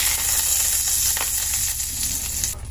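Steak sears in a hot pan with a steady, close broadband sizzle and hiss that holds evenly throughout, with no voices.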